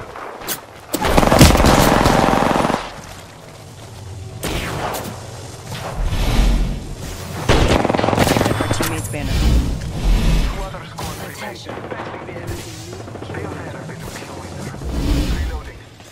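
Gunfire in the Apex Legends game, with loud bursts of shots and booming impacts, a strong opening volley and then intermittent blasts and whooshes, with a voice speaking at times over the action.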